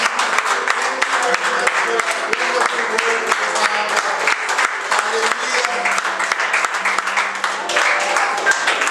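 A church congregation gives a sustained round of applause in praise, many hands clapping together in a dense, continuous wash, with a few voices rising briefly under the clapping.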